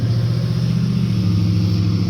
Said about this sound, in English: Yeah, you recognize the sound of the truck.